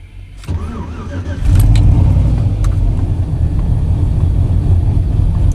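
A turbocharged Chevrolet Silverado truck engine runs on a dyno, a low, loud rumble that surges suddenly to a heavier, sustained roar after a brief softer start.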